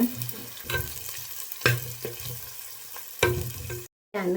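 Spices tempering in hot oil for a tadka, crackling and sizzling in irregular bursts with sharp pops and a stirring clatter, close and fairly loud, cutting out briefly near the end before resuming.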